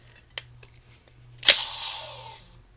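A toy Kamen Rider Kabuto Kunai Axe Gun gives a few small plastic ticks, then one sharp, close snap as its tab clicks into Kunai mode, followed by a short fading rattle.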